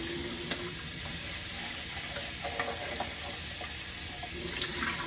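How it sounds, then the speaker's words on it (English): Cool tap water runs steadily while a plastic container and spoon from cold-process soap making are rinsed at a sink: a continuous close hiss of flowing water with faint knocks and clinks from the items being handled. "And for the container and spoon, just rinse it with cool water."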